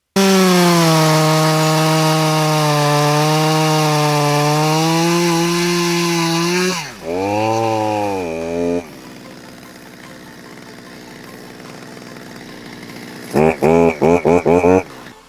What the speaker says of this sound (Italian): Ora entrerò da sotto, vedrete che la motosega rimarrà letteralmente schiacciata nel tronco